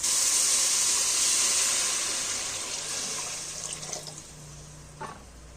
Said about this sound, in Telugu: ఇందాక ఇప్పుడు వాటర్ అయితే యాడ్ చేస్తున్నాం